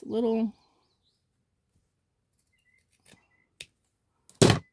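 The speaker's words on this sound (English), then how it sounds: "we're going to trim that a little bit more" Scissors trim excess quilt binding fabric with a few short, separate snips after a brief voice, the last cut louder and closer than the faint earlier ones.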